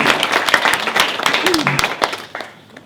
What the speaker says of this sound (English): Could you please stand up and take a round of applause?